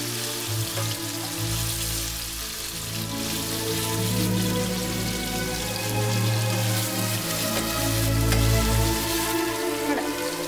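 Marinated salmon frying in a pan with its marinade, a continuous close sizzle and crackle that holds steady throughout over a low background hum.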